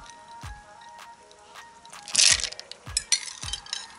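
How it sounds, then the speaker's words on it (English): Ice cubes dropping into cold water in a blender jar for a banana smoothie, a few separate sharp clinks and clatters spaced about a second apart, fairly quiet and close, with no talking. "some ice cubes."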